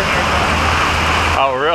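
Heavy rain pouring down outdoors in a dense, loud, steady wash, with a voice briefly speaking near the end.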